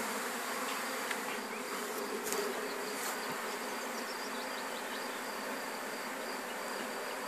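A swarm of honey bees hums around a hive while being caught. The buzzing is dense, even and continuous at close range, with a few individual bees passing near the mic.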